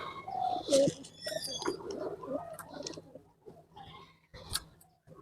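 Pigeons coo as they drink water after feeding, with several soft, rolling coos and a few light chirps and clicks spread unevenly across the moment.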